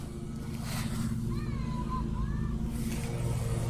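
A lawn mower cuts grass close by, its steady engine drone running throughout with a low harmonic hum, while a voice talks over it in the middle.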